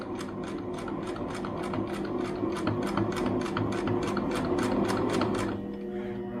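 A sewing machine stitches a homemade fabric face mask, running steadily with a fast, even needle rhythm close by before slowing and stopping near the end, with no talking.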